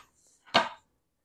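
A knife slices through a baby golden potato, halving it in one short, crisp cut against a board, a single brief chop in an otherwise quiet kitchen.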